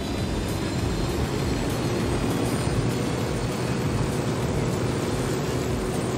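A helicopter in the video game Ghost Recon Wildlands drones steadily with a constant engine and rotor roar, loud and unbroken throughout, with no talking.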